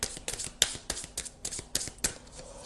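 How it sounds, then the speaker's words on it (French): Tarot cards slide and snap against each other as one is drawn from the deck, giving a quick run of crisp papery flicks and taps close to the microphone, with no speech. "je vais tirer une dernière carte"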